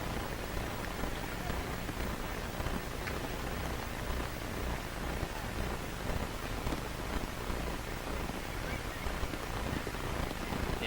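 Steady, dense hiss of rain falling on an outdoor football pitch during a middle-school match, continuous and moderately loud throughout with no distinct voices.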